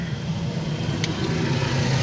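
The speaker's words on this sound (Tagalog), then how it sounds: "Saglit lang, may motor." A motorcycle passes along a road on a drizzly jogging route, its steady mid-low engine drone holding close and fairly loud throughout without clear rise or fall.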